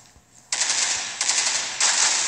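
Bursts of rapid gunfire in the game Critical Ops, three short volleys in quick succession, loud and close with no talk.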